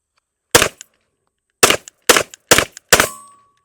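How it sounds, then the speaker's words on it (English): A Canik SFX Rival 9mm pistol fires five loud, close shots. One is followed by a pause, then four come in quicker succession, each with a sharp crack and a short echo. "up next we have a Canik SFX Rival, chambered in 9mm."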